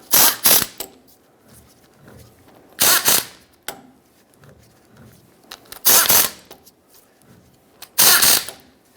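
A ratchet tightening bolts on a 2007-2014 Chevrolet Silverado 2500 HD front CV axle gives four loud bursts of rapid clicking, each under a second long, spaced about two to three seconds apart, with quieter metallic shuffling between them.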